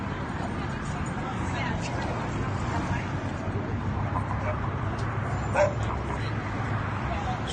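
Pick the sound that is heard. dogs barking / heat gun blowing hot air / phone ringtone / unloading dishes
dogs barking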